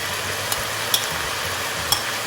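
Carrots go into a sizzling pan of spaghetti bolognese sauce, giving a steady close frying hiss with a few brief scraping clicks of stirring.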